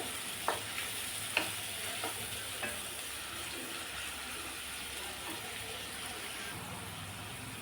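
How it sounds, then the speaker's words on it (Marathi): One medium chopped tomato sautéing in hot oil for jowar khichdi, a soft continuous sizzle with a few light spoon taps and scrapes near the start, fairly quiet and free of speech. "टोमॅटो छान परतून घेऊया तेलावर."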